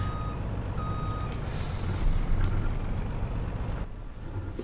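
Lizard Roadrunner truck in Farming Simulator 19 reversing, a steady loud diesel engine rumble with intermittent reversing beeps and a brief air brake hiss, then a cut to quieter engine noise.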